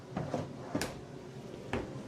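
Cabinet doors in the kitchen of a Springdale Mini 1750RD travel trailer are opened and shut, giving several close, sharp wooden knocks and clicks spaced irregularly.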